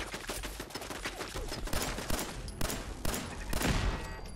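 Gunfire rattles in Fallout 4 as dense, continuous bursts of shots with a few louder cracks, steady and close throughout with no talking over it.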